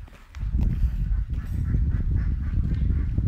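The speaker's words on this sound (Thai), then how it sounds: "อันนี้มีเป็ดด้วยนะคะ" Ducks quack and honk continuously at close range outdoors, a busy, dense chorus of overlapping calls.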